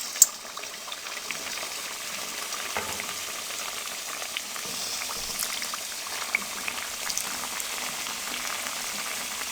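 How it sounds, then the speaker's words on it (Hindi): Medium-sized kachoris fry in hot cooking oil in a kadai, giving a steady, close bubbling sizzle with a few faint clicks and no talk throughout. "अब इसमें हम ये कचौरी फ्राई करेंगे"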